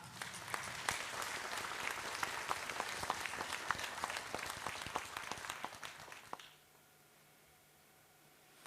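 An audience at an award ceremony applauds as a priest is called up to receive a statuette for regional and religious glass painting. The clapping is steady and fairly distant for about six seconds, then stops abruptly into quiet room tone.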